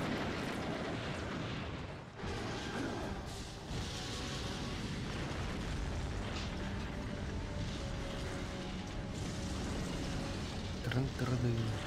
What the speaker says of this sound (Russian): Не, взрывы реально круто сделаны.